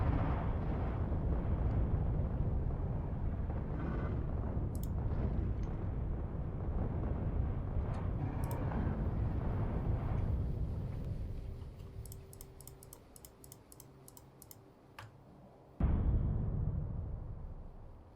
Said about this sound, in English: let's finish off just by destroying this base